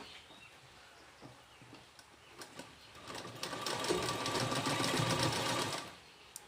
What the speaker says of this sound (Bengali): এখানে আসার পর আমি কিভাবে সেলাই দিচ্ছি এটা আপনারা একটু ভালো করে দেখুন